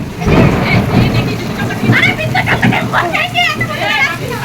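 Heavy rain pours with low thunder rumbling, largely masked by excited children's voices talking and calling close by throughout.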